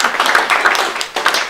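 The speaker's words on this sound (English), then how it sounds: "Now let's increase the clapping." A small audience claps louder and more energetically, a dense, close patter of many hands that swells and briefly dips before picking up again.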